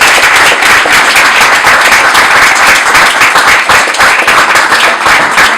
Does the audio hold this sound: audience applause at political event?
yes